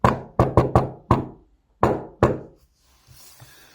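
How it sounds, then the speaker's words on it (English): A sharp knocking on a door: a quick run of five raps, a pause, then two more hard knocks, followed by faint background hiss. "remember that knock, because if you get the knock at the door and it sounds like that"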